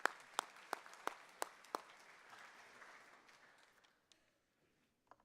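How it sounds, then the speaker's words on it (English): Applause at an awards ceremony: a handful of sharp, separate claps ring out at first, then thin into a faint patter that fades to near silence, with one last late clap. "I'll give a clap for Mr. Smith"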